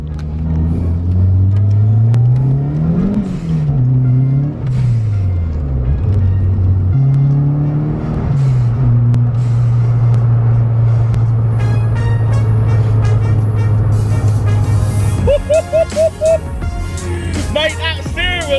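Ford RS Turbo accelerating on a winter drive, its engine rumbling loud and steady as it pulls through rising and falling revs, with turbo whistle and whooshing bursts near the end.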